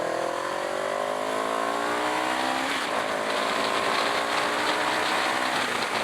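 CFMoto 700 CL-X motorcycle engine in eco mode, a steady loud drone with rising harmonic sweeps as it accelerates through gears while riding, continuous and close throughout.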